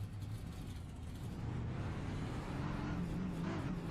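Race car engine in the iRacing sim game, a steady low drone held throughout at moderate level, with a slight rise in pitch toward the end as another car nears.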